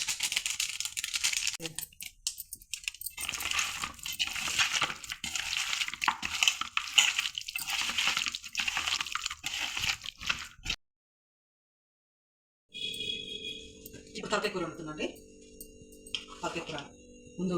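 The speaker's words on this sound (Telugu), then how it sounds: "చికెన్ మసాలా కూడా వేసి కలిపేస్తాను" Soaked chicken pieces are mixed with chicken masala in a kitchen, giving wet, squelchy, crackling bursts that come in irregular strokes. A short silence falls before more mixing noise.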